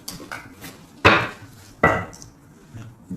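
A deck of tarot cards being cut by hand, giving a few soft shuffling rustles and two sharper slapping taps of cards set down, close and alone without talk.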